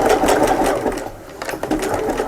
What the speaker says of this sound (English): now I'm just going to run that under the machine again and just do a nice neat zigzag finish